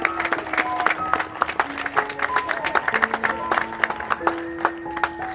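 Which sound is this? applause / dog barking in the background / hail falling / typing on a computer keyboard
applause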